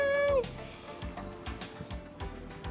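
A cat gives a single short meow right at the start, close by, before people keep talking over faint outdoor background noise.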